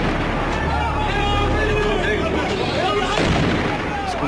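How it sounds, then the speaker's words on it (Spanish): Gunfire from Syrian armed forces shooting at Israeli drones flying over tank formations near Sueida, with sharp reports and booms mixed into a busy outdoor scene, voices and babble audible underneath. "Escuchan disparos de las Fuerzas Armadas sirias contra los drones israelíes que sobrevolaban las formaciones de tanques"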